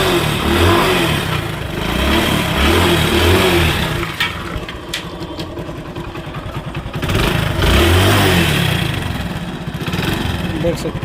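Hero Splendor Plus motorcycle idling and revving after a new bend pipe was fitted, a close, loud, throbbing engine that rises, eases and swells again while someone talks over it.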